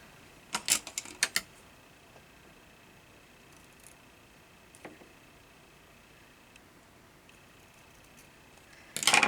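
Scissors cutting paper for a junk journal: a few quick, close snips near the start, then mostly quiet with faint small ticks, and a louder rustle at the very end.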